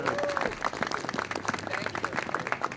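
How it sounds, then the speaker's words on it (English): An audience at a menorah lighting claps through a round of applause, a steady patter of hands with some distinct claps on top, moderately loud and close, with no speech over it. "Let's have one more round of applause."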